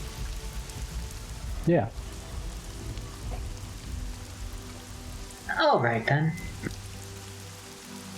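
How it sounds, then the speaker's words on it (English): Soft, steady rain falls in the background throughout, with a couple of brief spoken replies over it. "Your conspiracy is covered by the gentle sounds of rain"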